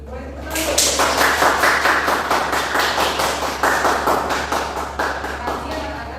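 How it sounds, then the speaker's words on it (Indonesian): A classroom of students applauds at the close of a microteaching lesson, a dense, steady burst of clapping that starts abruptly and carries on for several seconds before slowly thinning out. "Boleh tepuk tangan."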